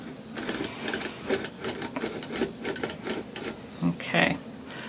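A hand-cranked circular sock knitting machine turning slowly with a weight hung on the fabric, giving a rapid, rhythmic clatter of needles and cams that comes in bursts, with a voice talking briefly near the end.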